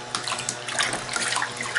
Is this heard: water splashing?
yes